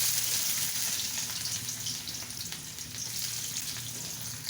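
Oil sizzles and crackles steadily in a pan as chopped onion fries, a constant hiss with light popping, no talking.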